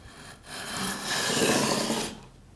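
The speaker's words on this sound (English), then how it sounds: "This is 400 grit, and we're just gonna glide forward." Abrasive rubbing of 400 grit paper gliding forward over guitar frets during a handmade touring guitar build, a steady close scratchy rasp that swells for about two seconds, with no talk.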